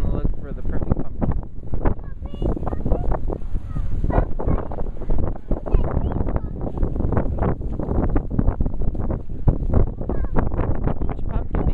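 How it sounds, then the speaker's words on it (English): Strong wind buffets the microphone outdoors at a pumpkin patch, a loud, continuous rumbling roar with gusts throughout while people talk beneath it. "Super windy today."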